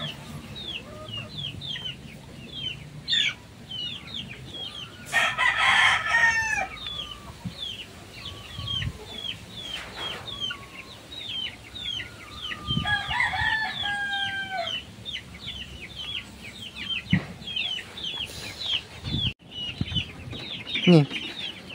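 Several roosters crow repeatedly at different distances amid scattered clucking from fighting cocks kept for sale, with faint background noise between calls.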